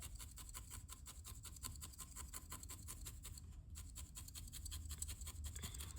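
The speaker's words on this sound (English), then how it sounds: "I'll just be touching up the entire thing as I go with this thinner needle" A thin felting needle jabs repeatedly into wool on a small hedgehog figure, making rapid, faint, evenly spaced scratchy pokes close to the microphone, with no voices.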